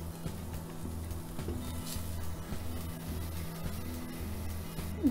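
Steady, gentle sizzling of orange zest frying in butter in a pan over medium heat, close and continuous, with faint clinks of stirring and no talking.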